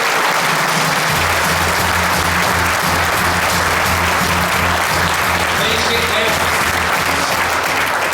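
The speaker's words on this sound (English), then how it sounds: "another round of applause, John McGuinness" Loud, sustained applause from a seated audience at a motorcycle museum anniversary celebration, honouring rider John McGuinness, continuous throughout with a faint voice over it.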